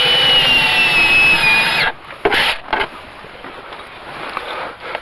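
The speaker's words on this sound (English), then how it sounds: "It's the only way I could get a drill up under here." A loud, steady power drill whir runs for about two seconds under an older Pontiac's seat, then cuts off, followed by a few short bursts and quieter scraping.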